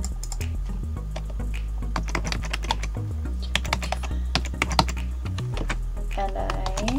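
Rapid typing on a computer keyboard while logging in to an airline account, a dense run of near, crisp key clicks and thunks continuing for several seconds.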